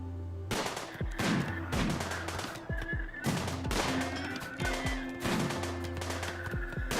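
Video game gunfire: repeated sharp shots in irregular bursts over a steady tonal music bed, fairly loud and close, with no talking.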